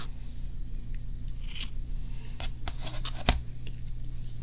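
Scissors snip through a yarn loop while finger knitting. A few light snips and scrapes sit over a steady low background hum, with one sharper cut near the end and no speech.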